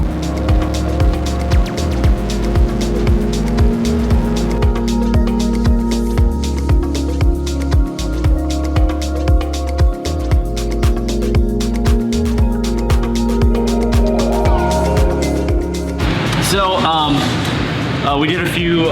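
A twin-turbo Chevrolet Corvette C8 makes a dyno pull, its engine roaring loud and sustained with steady rhythmic pulsing, winding down to a brief whoosh near the end.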